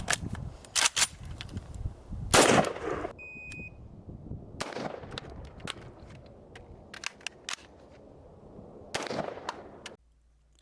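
AKM and M4 rifles fire at 25 yards in a series of sharp, loud cracks, several irregularly spaced shots with pauses and faint metallic handling clicks between them.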